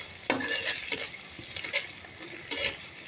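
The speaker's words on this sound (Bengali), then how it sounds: "আর একটুখানি ভেজে নিব" Fish frying in oil in a pan, with a soft steady sizzle and a few brief stirring or scraping clicks from a spoon, close by and fairly quiet.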